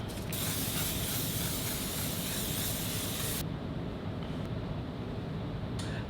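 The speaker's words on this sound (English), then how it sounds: "I'm going in with the one size mattifying setting spray." A mattifying setting spray mists onto a face in one long, steady hiss, followed by a quieter continuous spray and a brief final burst.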